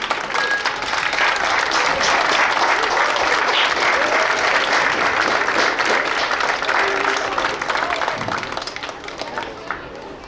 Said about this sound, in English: would everyone please join me in giving her a big round of applause